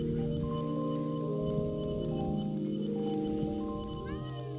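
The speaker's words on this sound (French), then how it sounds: "Miaou." A small cat meowing indoors, a brief thin call near the end over steady low hum and background tones, fairly close.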